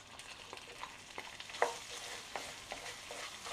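Onions frying in a pan for an olive chicken tagine, a soft, fairly faint sizzle broken by light spatula scrapes and taps.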